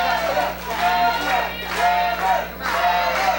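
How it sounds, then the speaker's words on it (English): A wrestling arena crowd chants for Trevor Lee in rising and falling rhythmic waves, a loud, reverberant mass of voices filling the hall, with no single speaker standing out. "Crowd chant for Trevor."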